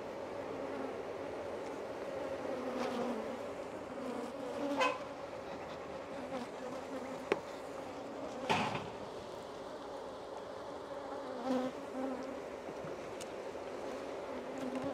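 Honeybees buzz in an open beehive, a steady low hum filling the whole stretch, with a few louder passes and faint handling knocks; no talk is heard.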